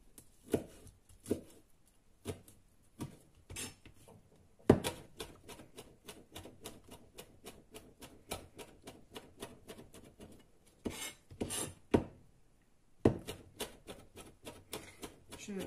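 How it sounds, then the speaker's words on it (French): A knife finely chops a rinsed fresh herb on a cutting board in a home kitchen, producing quick runs of crisp, close taps in irregular bursts with short pauses between them, and no voices heard. "Je vais le hacher bien finement."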